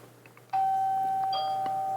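A single electronic doorbell chime rings out, a clear sustained tone that starts abruptly and holds steady, loud and close with no talk over it.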